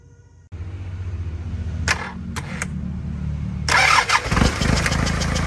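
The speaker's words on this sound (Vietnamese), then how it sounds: "Bây giờ em sẽ cho anh em thợ test máy" A Nissan FD46 diesel engine driving a water pump cranks and catches, then runs steadily at a loud, close idle before revving up into a harder, rougher roar.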